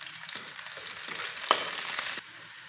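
Onion and green chili sizzle in hot oil in a kadai, a steady close crackle broken by stirring scrapes and a sharp clink, fading quieter near the end.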